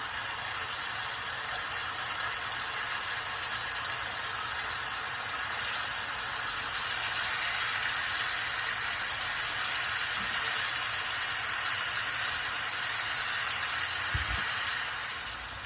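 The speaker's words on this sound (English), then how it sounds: "So we're gonna turn these over so that we can allow the other side to brown a little bit as well." Pork chops sear in a skillet as they are turned to brown the second side, giving a steady, fairly loud broadband hiss and sizzle that runs throughout with no talking.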